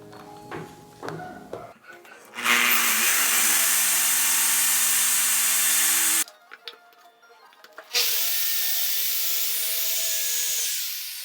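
An electric drill boring into wood for a homemade tripod floor lamp, whining loudly in two sustained runs that wind down, with quieter handling noises before and between them.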